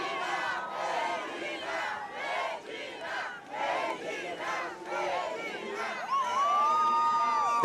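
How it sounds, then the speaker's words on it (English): A large beach crowd roars and cheers at a surf contest in Brazil, a dense sustained wall of shouting voices that swells and ends in a long high whoop, heard from amid the crowd. "Let's listen to the crowd."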